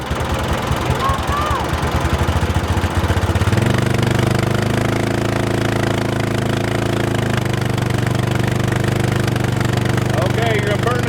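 A lawn mower engine runs continuously in a rapid chugging rhythm that shifts to a heavier, steadier drone about a third of the way in, close and loud, with people talking over it.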